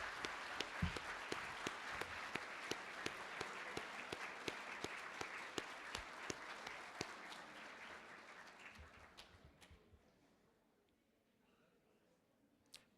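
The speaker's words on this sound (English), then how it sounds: "And I also want a round of applause for the person making this happen." Applause from an audience at a speech by an education minister, a steady crowd clapping that holds for several seconds and then fades out, leaving near silence with a lone faint sound at the end.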